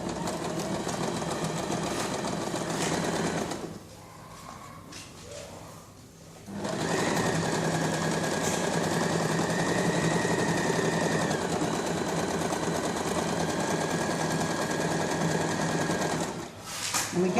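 A sewing machine runs a zigzag stitch across quilting in long steady bursts, briefly pausing twice before resuming with a constant mechanical whir close to the microphone.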